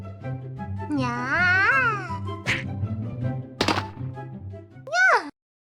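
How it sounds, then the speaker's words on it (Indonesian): A cat meows in a Minecraft animation: a few wavering, cartoonish meows, one long and one short near the end, mixed with voices talking and small thuds. "Hei, bocah kucing."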